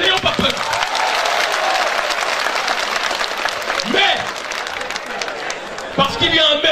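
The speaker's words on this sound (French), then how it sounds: "Applaudissons-les, n'ayons pas peur." A crowd at a public speech in Niamey breaks into loud, sustained applause with cheering, and a speaker's voice cuts in over the clapping near the end.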